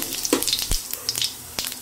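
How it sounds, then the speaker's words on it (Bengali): Cumin seeds, dried red chilies and bay leaves sizzle in hot oil as a tempering for chicken kosha, with sharp crackles and pops over a bright, steady hiss, close and fairly loud. "আমি এবার ফোড়নে দেব জিরে, শুকনো লঙ্কা, তেজপাতা"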